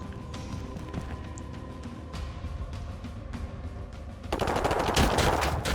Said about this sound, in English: There, I see one. What are they doing? And suppressing fire, okay.